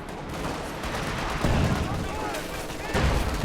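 Machine gun fire in the Company of Heroes 2 battle game, dense rattling bursts with heavier booming hits at intervals, loud and continuous under a voice.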